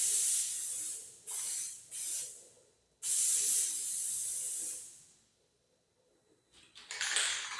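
Bursts of aerosol spray from a can applying a light coat of matte clear coat to a painted MDT HNT 26 rifle chassis, several short hissing sprays followed by a longer steady one, close and alone.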